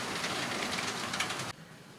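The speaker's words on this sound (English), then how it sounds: "Now we've got our little Lima Prairie circulating at the moment" A small Lima Prairie model locomotive runs along a layout track with a soft, continuous rushing rattle that cuts to near quiet after about a second and a half.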